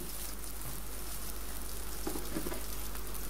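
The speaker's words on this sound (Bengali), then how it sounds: "তেলগুলো গরম হয়ে গেলে দিয়ে দিচ্ছি আগে থেকেই কুচি করে কেটে রাখা পেঁয়াজগুলো" Chopped onions fry in hot oil in a pan, a steady dense sizzle and crackle throughout, close and even, with no voices.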